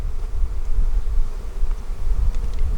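Honeybees buzzing close by while being installed into a new hive in a bee yard, a dense, steady low drone that rises and falls slightly in loudness, with no talking.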